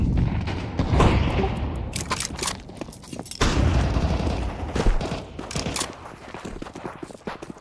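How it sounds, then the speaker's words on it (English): Video-game explosions and dense gunfire from a Rocket League session, with a loud burst near the start and another around the middle, surrounded by steady crackling shots and impacts. "Flashbang."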